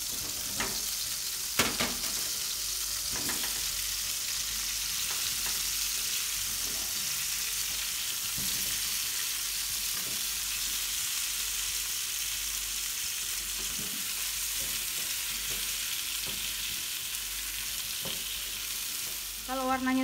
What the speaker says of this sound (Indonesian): Tumis pisang.